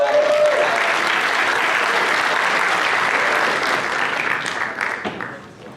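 Sustained audience applause greets student presenters being called onstage at a leadership summit, steady and full for about five seconds before thinning out toward the end.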